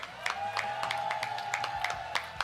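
A small audience at the Microsoft Excel World Championship esports final claps for the second place winner, giving sharp, fairly evenly spaced claps over a steady background tone, at moderate volume.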